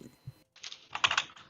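Computer keyboard typing during a game stream, close and fairly loud, a quick run of clustered key clicks with a short pause before a denser burst.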